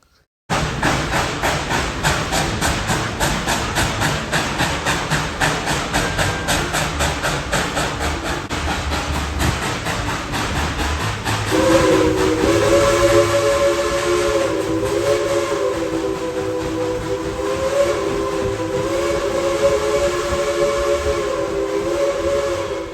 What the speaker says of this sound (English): I've never actually in person heard a train work this hard before.